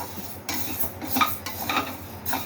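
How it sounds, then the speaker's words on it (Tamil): Flour being stirred and lightly roasted in a pan for murukku dough, close scraping strokes of a utensil against the pan repeating in a loose rhythm, with no talk. "இதை வந்து நல்லா வறுத்துடுறோம் லைட்டாக வறுக்கிறோம்"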